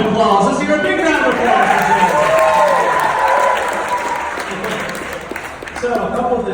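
A camp crowd applauds Joe, steady dense clapping that holds loud throughout and dips slightly before picking back up near the end, with a voice speaking over the applause.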